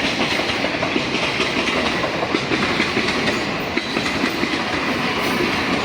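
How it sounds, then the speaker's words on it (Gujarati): A local train rolls past at night at Vasai Road station in Maharashtra, a loud, steady rumble with rhythmic clickety-clack of wheels on rails filling the whole moment, no voices. "સામે જોઈ શકો તમે કે લોકલ ટ્રેન જાય છે"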